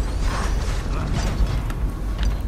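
Mechanical clanking and creaking of a Tallboy, a stilt-walking armored enforcer in the game Dishonored, moving somewhere nearby; steady metallic rattles and creaks continue through the short stretch with no talk.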